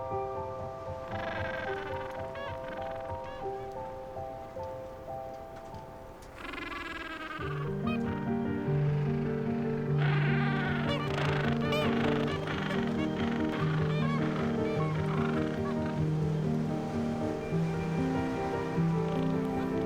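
Gentoo penguins call from a breeding colony on ice-free ground, a dense chorus of honking, braying cries overlapping from several birds near and far, with a louder braying group rising midway and persisting steadily.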